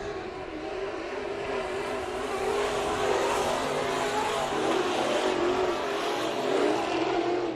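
Race cars in a heat race at Bakersfield Speedway, a dense continuous roar of engines at a distance, steady and full with slight swells as cars pass, no voices in the foreground.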